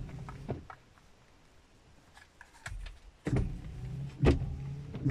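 Rear windshield wiper motor on a seventh-generation Honda Civic, its blade rubber torn loose: short whirring motor bursts with rattling, patting knocks in an irregular run, close by and fairly faint, no talk.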